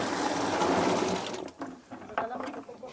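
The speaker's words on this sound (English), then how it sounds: "place the ripe coffee into the water so that we may remove the low quality and ripened beans." Ripe coffee cherries are tipped into water, giving a rushing splash and gush that fades into scattered drips and sloshing knocks, with faint voices around.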